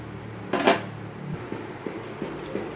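Fried lentil fritters go into a metal curry pan with a sharp clatter of utensil on pan, then several lighter taps and scrapes, close and clear, with no talking.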